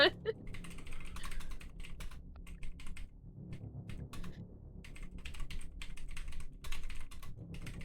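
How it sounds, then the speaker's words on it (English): Fingers tap away at a computer keyboard in quick, uneven bursts of soft clicks, with faint voices in the background. "He's typing."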